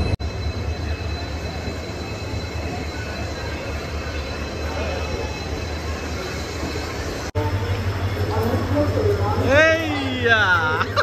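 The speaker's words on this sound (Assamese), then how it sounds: "এই ট্ৰেইনখন ইতিমধ্যে পাই গৈছে" A train pulls into a station with a steady low rumble, then metal wheels and brakes squeal in rising and falling tones as it slows near the end. A murmur of voices sits faintly in the background.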